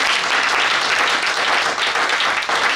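A church congregation at a Sunday service bursts into loud, dense, sustained applause, with many hands clapping at once throughout.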